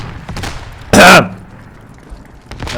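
A grenade blast with gunfire in the tactical shooter Squad, a single loud, dense burst of about a quarter second standing out above quieter battlefield noise and faint background talk.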